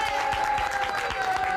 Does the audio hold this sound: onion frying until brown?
no